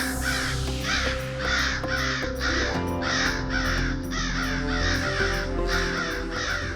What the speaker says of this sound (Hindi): काक तो आ गए, पर अब हमें इन्हें पिंड देना होगा।